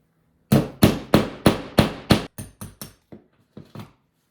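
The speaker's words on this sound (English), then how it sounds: "pound it into the wall" A hammer pounds a tool into a wall to make a hole for a wall anchor, about a dozen sharp, close blows in quick succession, fading softer toward the end.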